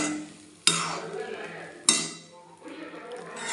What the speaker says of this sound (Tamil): நல்லா கிளறி விட்டுருவோமா?